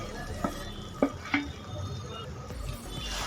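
Pre-fried eggs added to potatoes and spring onion stalks cooking in a pan, with a few clinking spoon taps and stirring scrapes over a low, steady sizzle.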